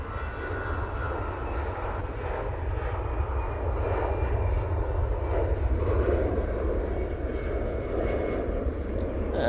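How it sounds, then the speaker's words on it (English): An airliner in Star Alliance livery departing Manchester for Frankfurt, a heavy continuous engine rumble and roar that swells gradually, loud and unbroken, with no speech. "And there goes that Star Alliance livery back off to Frankfurt"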